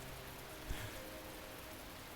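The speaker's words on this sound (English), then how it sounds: "The rain shows no sign of letting up." Steady rain falls in a visual novel scene, a soft continuous hiss of drops with one faint low thump, quiet and unbroken throughout.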